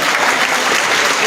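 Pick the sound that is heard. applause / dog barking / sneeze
applause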